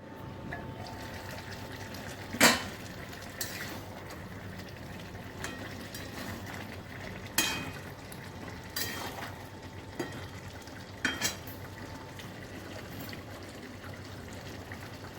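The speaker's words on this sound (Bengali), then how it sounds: "এবার আমি ঢেকে দিচ্ছি," A covered pot of potato and cauliflower curry simmers quietly on the stove, a faint, steady bubbling hiss broken by a few soft clicks and taps.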